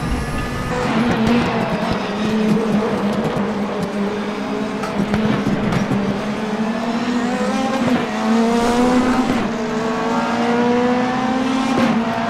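A DTM 2015 race car in the RaceRoom racing game at the Norisring circuit screams loudly through the gears, engine pitch rising and falling across several upshifts and downshifts, with tire squeal, close and continuous throughout.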